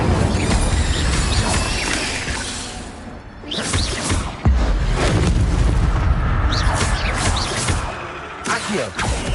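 The Incendio fire spell is cast in Hogwarts Legacy, giving loud booming, whooshing bursts of flame with rumbling impacts that rise and fall across the clip, under some talk.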